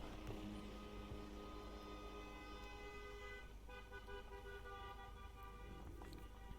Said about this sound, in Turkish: Ne korna çalıyor lan?